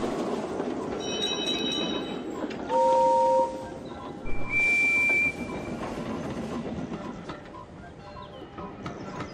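Steam train whistles from a Thomas the Tank Engine video game sound as a few separate steady, pitched toots about a second each, with background music and game noise between them.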